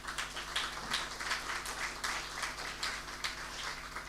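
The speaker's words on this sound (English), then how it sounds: "So I asked you to give a big round of applause to our colleagues," Conference audience applauding colleagues, a steady dense wash of many hands clapping that holds evenly throughout, no voices over it.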